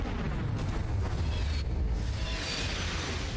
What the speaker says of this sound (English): Less artillery pieces means less explosions on the ground, right?